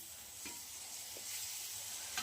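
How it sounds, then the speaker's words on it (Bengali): Spice paste with prawns cooking in a pan with a little water, a soft steady sizzle broken by a few brief scrapes of stirring; no voices. "আমি বেশ সুন্দর করে মশলাটা কষিয়ে নিচ্ছি"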